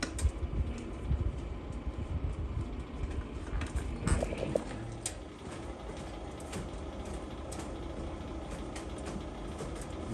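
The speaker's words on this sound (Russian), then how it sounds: "Вот загудел наш вентилятор." The fan of a Kalor Greta 8 pellet stove starts up, giving a steady, broadband whooshing hum that continues evenly throughout, with a few faint clicks and knocks near the middle.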